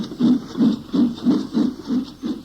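Steam locomotive on the Somerset & Dorset Joint Railway chuffing in a steady, even rhythm of about three beats per second, heard clearly and alone at moderate distance.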